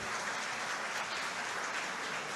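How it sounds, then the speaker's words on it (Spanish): An audience at a religious gathering in Punta de Tralca bursts into dense, sustained applause, many hands clapping together in a steady wash of sound with no talking over it. "Un aplauso para esas que alzaron la mano, por favor, un aplauso para esas mujeres que alzaron la mano."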